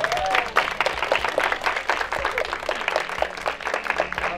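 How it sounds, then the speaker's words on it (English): Audience at a beauty pageant event gives a round of applause, a brisk, fairly quiet spread of many hands clapping that holds steady for several seconds with no voices over it. "Give Charlotte a round of applause."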